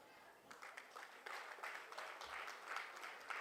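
An audience claps together at a public speech, a soft, distant patter of applause that builds and carries on for several seconds, with a voice faintly audible under it.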